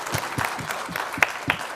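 A small audience at a Kannada discussion program claps in a loose, uneven rhythm, individual claps distinct and moderately loud, a couple of sharper ones standing out, with no one talking over it.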